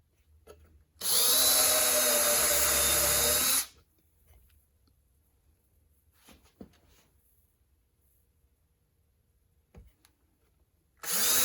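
A power drill drives screws into a wooden cornhole board, one loud close burst lasting a few seconds, then quiet handling noises and the start of a second run at the end.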